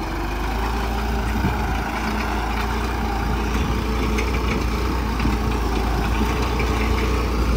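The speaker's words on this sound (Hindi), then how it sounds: "10 की रेस पे चल रहा है मीडियम के दूसरे में" New Holland 3630 TX 4WD tractor engine running steadily in medium second gear, a loud continuous diesel rumble close by, alone with no talking.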